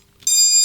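An FPV racing quadcopter beeps as its LiPo battery is plugged in: a sudden, loud, bright electronic tone that starts abruptly after a brief quiet and holds steady, close up with no talking.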